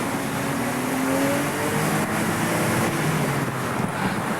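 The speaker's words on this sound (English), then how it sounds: "when you drop it down a gear or two and give it some revs" A Porsche sports car engine revs hard after a downshift of a gear or two, giving a loud, steady roar with rising pitch that carries through the whole stretch with no voices.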